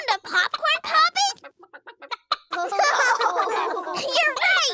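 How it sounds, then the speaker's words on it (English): A chicken clucks in a run of short, sharp, evenly spaced calls, followed by lively children's voices and excited speech overlapping at close range. "Is it the sound of a chicken or a sheep? A chicken!"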